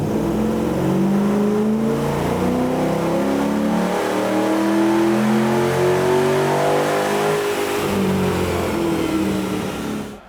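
A tuned Holden Commodore ute engine revs hard on a dyno at a racing workshop, a loud, continuous rising roar with climbing harmonic tones held for the full ten seconds.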